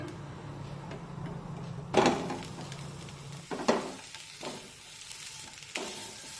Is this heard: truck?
no